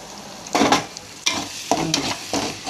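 Ripe tomatoes, some blended, go into a pan with ginger and are fried over low heat, giving bursts of sizzling and spatula stirring scrapes in several close, loud strokes.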